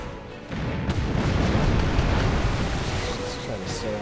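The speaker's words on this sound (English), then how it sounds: "Just trying to stay out of cannon fire range." Heavy booming cannon fire in the naval video game Tempest, a dense, rumbling barrage that swells after the first half second and stays loud and continuous throughout.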